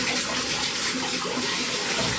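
Tap water gushes steadily into a mixing bowl as it is washed out after a cheesecake mixture, a continuous close, full splashing rush with no pauses.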